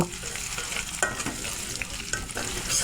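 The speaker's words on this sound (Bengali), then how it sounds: "এখন নেড়েচেড়ে ভেজে নেব" Chopped onion and garlic stir-frying in hot oil with black cumin seeds, a continuous close sizzle broken by repeated utensil scrapes and clacks as the pan is stirred.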